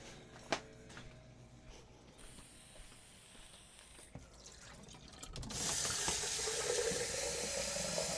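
A tap is turned on to change the water for painting brushes at a hobby desk. A few faint mechanical clicks come first, then a steady, close rush of running water fills the last three seconds.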